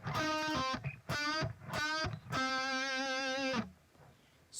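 Distorted electric guitar strikes a power chord twice in short bursts, then a quick note pair and a longer sustained chord, ending in quiet.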